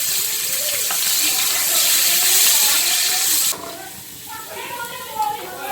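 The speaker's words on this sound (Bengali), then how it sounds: "এবার কাঁঠাল বীজগুলোও ভেজে নেব।" Jackfruit seeds frying in oil make a loud, steady hiss that drops suddenly to a softer bubbling sizzle partway through, with no talk.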